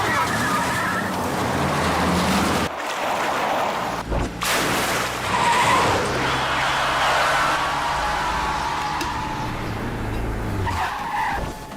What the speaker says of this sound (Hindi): कम ऑन, गाड़ी चलाओ, मूव मूव मूव।